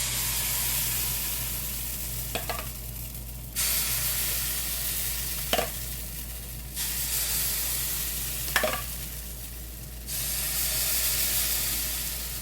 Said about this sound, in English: Alright, and we keep on frying. So I'm going to fry these up.